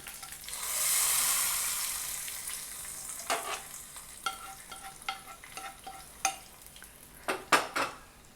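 A sizzling tempering of cumin and curry leaves is poured onto mint chutney, a loud burst of hiss at first that fades, followed by scattered clinks of a metal spoon against the pan.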